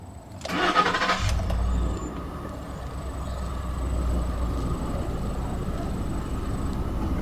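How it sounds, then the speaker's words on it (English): A 2011 Ford F150 Lariat with 73,000 miles cranks briefly and catches, then settles into a steady, smooth low idle that carries on close by with no one talking. "now let's go ahead and start the engine."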